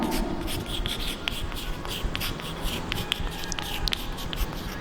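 A math series written on a board during a Hindi lesson on exponential and logarithmic series, continuous close scratching and tapping strokes with a rough, steady texture, with no talking.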